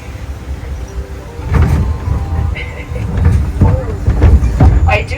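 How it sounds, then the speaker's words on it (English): A tram rolls slowly over rough bumps along a park route at Morton Arboretum, with low rumbling, creaks and occasional knocks under intermittent talk. "Going slow because these are wicked bumps here for the tram"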